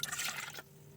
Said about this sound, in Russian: А теперь горох промываю. Промываю холодной водой раза 3-4, пока вода не перестанет быть мутной.